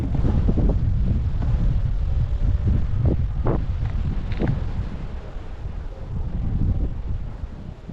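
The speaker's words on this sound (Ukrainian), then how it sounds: "Тут уже ураган почався, пока я приїхав познімати, да?" Strong wind buffets the microphone beside a park pond in an arboretum, a steady low roar lasting throughout with gusty surges and faint rustling, loud and close with no talk.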